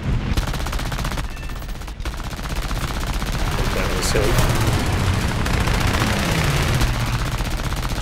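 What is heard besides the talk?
aircraft machine gun fire in War Thunder video game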